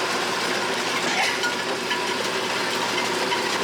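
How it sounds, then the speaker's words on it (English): Steady, loud mechanical roar from the massive engine of a greenhouse soil machine with a spinning belt, a continuous drone with no pauses or talking. "Just look at the massive engine on this thing and the speed of that belt spinning around."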